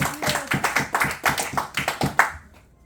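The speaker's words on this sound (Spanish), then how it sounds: "Denle un fuerte aplauso al Señor." Church congregation gives a short burst of rhythmic applause, about a dozen crisp evenly paced claps at close range, which then fade out into quiet.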